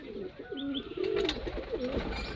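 Kaldom pigeons coo close by in soft, low, rolling calls, several overlapping phrases in quick succession, with no talk.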